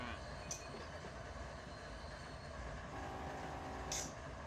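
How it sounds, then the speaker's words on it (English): A video game train in Run 8 Train Simulator III rumbles steadily with a low continuous roar, wheels clattering along the track, and a couple of brief higher squeals. "I hear another train coming or something."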